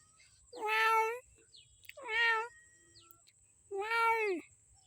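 A cat out by village rice paddies meows three times, each call loud, close and drawn out, separated by short quiet pauses over faint background noise.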